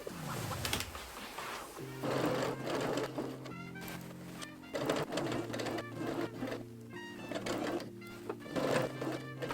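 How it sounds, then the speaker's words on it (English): A sewing machine stitches a lining bodice to the shell of a bubble frock in several short whirring runs separated by brief pauses and clicks, close and clear. "sew 3/8 of an inch or 1 centimeter along the top of your bodice"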